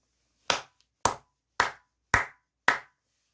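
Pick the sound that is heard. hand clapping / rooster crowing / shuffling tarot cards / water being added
hand clapping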